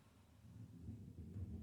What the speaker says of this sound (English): Somebody's taking their wheelie bin in.